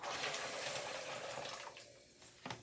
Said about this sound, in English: so we're going to pour it in there.